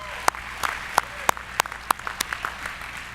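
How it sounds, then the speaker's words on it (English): An audience at the LCTCS 2016 annual conference gives sparse applause, a dozen or so distinct hand claps scattered unevenly over a few seconds, moderately close, with no talking. "Give yourselves a round of applause."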